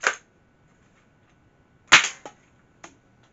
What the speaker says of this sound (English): you insert a magazine, close the breech, you're already primed, and then you just fire